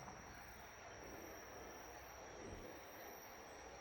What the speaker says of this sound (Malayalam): ട്രെയിൻ അങ്ങനെ കണ്ണൂർ റെയിൽവേ സ്റ്റേഷനിലേക്ക് പ്രവേശിച്ചിരിക്കുകയാണ്